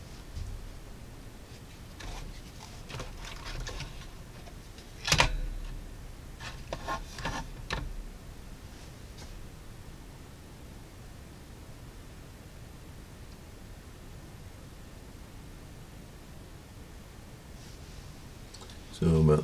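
Steady, faint hiss of a room's background noise floor at a workbench, with a few scattered clicks and knocks breaking the quiet and a louder bump at the very end.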